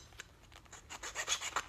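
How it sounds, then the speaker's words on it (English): A hand file rasps across the workpiece while making a Case 2090 knife, in a run of short scraping strokes that start soft and sparse and grow louder and quicker, close up and alone. "you could do this with a file"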